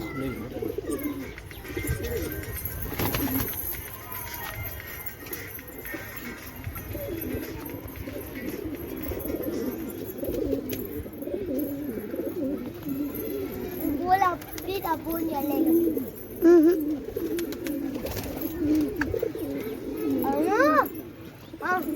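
Pigeons coo in low, throaty murmurs throughout, close by, while people and children talk and play in the background.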